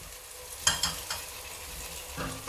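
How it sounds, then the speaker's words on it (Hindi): Finely sliced tomatoes fry with ground spices in a pan for a spinach and potato sabzi, giving a soft, steady sizzle with a few brief stirring clacks near the start and end. "अब टमाटर डालने के बाद हम सारे मसाले को अच्छी तरह से भून लेंगे"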